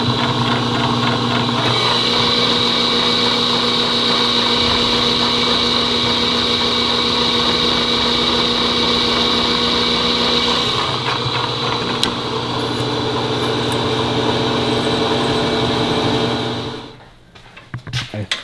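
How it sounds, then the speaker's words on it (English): A drill bores a 3/4-inch hole through the steel frame of a Can-Am X3 side-by-side, a loud, steady motor whine with grinding that runs for a long stretch, then winds down and stops. "We're going to take a 750 3/4 hole down through there"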